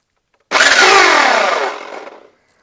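Bladed power tool starting up with a sudden loud whir that holds steady for over a second, then winds down and fades as the spinning blade slows, heard alone and close up.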